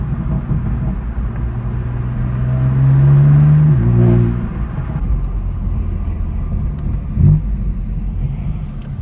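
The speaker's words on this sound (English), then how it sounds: "I love when you let off and it just pops real hard" BMW M4 CS with aftermarket downpipes, engine revving up in a rising drone that drops off on lift, followed by a sharp exhaust pop near the end over steady road rumble.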